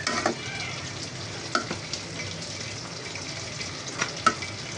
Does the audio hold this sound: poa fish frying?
yes